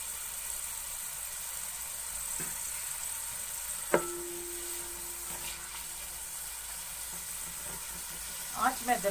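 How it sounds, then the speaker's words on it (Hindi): Sliced onions frying in oil over medium heat while being browned for a keema and green bean dish, a steady soft sizzle with a few clinks and scraping stirs near the end. "आंच मैं दरमियानी करके अब प्याज को ब्राउन कर लूंगी।"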